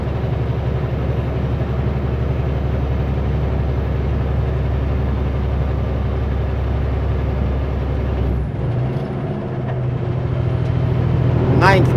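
A Super B semi truck's engine labours steadily up a steep, cold mountain grade in low gear, a loud, continuous deep drone heard from inside the cab, dropping in pitch after a gear change near the end.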